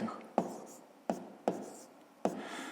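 A pen or pencil writes a math solution on paper, with short scratching strokes and four distinct taps of the tip set at irregular intervals, close and quiet.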